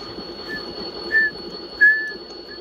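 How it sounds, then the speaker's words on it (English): A CSX-led military train in the Roblox video game sounds two short, clear horn tones over a steady electronic hum, with no other sound. "Here comes the train."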